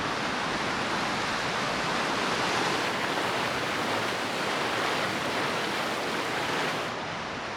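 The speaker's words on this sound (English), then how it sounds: "And these mountain streams get me." A mountain stream runs right beside a campsite in the Sawtooth Range of central Idaho, its water rushing as a steady, dense, close hiss that barely changes and fades slightly at the very end, with no voices.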